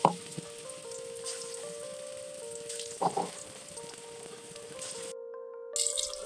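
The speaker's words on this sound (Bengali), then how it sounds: "কাবাবগুলো তেলে দেওয়ার পরে আমরা অল্প আঁচে ভেজে নেব" Beef mince kebabs fry gently in oil over low heat, a steady soft sizzle running throughout, with a brief drop to near silence toward the end before the crackle resumes.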